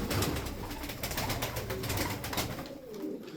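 Malatya pigeons coo softly amid a dense, steady wash of flapping and bird noise, the calls recurring close by throughout.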